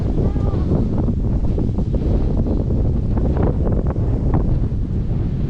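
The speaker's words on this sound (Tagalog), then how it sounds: "malakas ng hangin" Strong wind buffets the microphone on a high, long hanging footbridge in Sadanga, Mountain Province, a steady loud rushing roar with constant low rumble and no letup.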